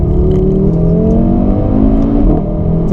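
An Audi RS3 saloon accelerates hard into second gear on a rough surface, its engine rising in a loud, continuous rev heard from close range with no talking.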